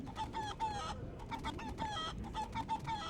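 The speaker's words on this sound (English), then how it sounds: "Chicken scream." Chicken in the video game Guacamelee! 2 squawking and clucking in rapid, repeated shrill bursts, loud and close over a busy game background.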